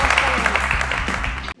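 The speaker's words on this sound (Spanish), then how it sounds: "Chicos, se merece un fortísimo aplauso." Brief burst of audience applause at a live class with a magician, dense clapping under a voice with a hum underneath, cutting off abruptly at the end.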